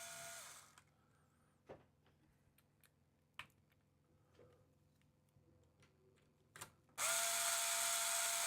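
A power drill in an RC car workshop gives two loud whirring bursts, one at the very start and one at the end. Between them sit a few faint ticks and clicks against quiet background hum.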